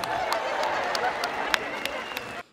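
A concert audience in a hall claps steadily in a dense, sustained wash of applause at moderate loudness, with a few sharper individual claps standing out before it cuts off abruptly.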